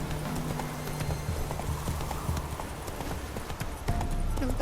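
Hoofbeats of the horse Roach galloping in The Witcher 3, a steady rapid clip-clop running throughout at close range, with a brief whinny and faint game ambience behind it.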